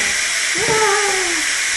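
Steam vents from an Instant Pot Duo Evo Plus pressure cooker with a loud, steady hiss, while a brief voice-like tone rises and fades over it.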